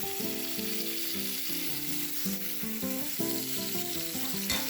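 Salmon fillet frying skin-side down in a pan, the crisping skin giving a steady, close sizzle that runs throughout under a layer of music, with no talking.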